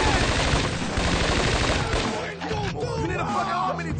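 Dense bursts of gunfire in the Scarface: The World is Yours video game, rapid shots close and loud, crowded with game music and effects and thinning slightly after about two seconds.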